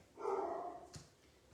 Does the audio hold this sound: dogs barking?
yes